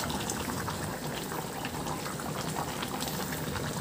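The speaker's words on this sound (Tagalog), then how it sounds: "Pakuluan lang ng bahagya para maluto lang din yung spring onion at yung siling green." Pork pata soup with green chili and spring onion bubbling steadily in a pot, a continuous close rolling boil with dense popping and no pauses.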